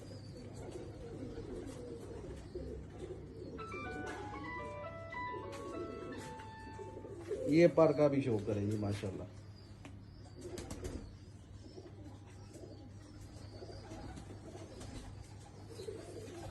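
Pigeons coo near a banded-pigeon loft during a show of birds bred by a local fancier, with a brief burst of wing flapping midway, a melodic tone sequence early on, and someone talking over the birds.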